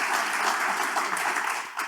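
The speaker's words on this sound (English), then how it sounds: "So a round of applause for those sponsors." An audience at the Big Irish Campfire 2022 claps in a thick, continuous wash of applause, close and loud, dipping only slightly near the end.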